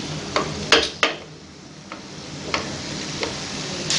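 Keema-stuffed green chillies fry in a pan, giving a low steady sizzle broken by a few sharp clicks and scrapes of a spoon or spatula stirring against the pan.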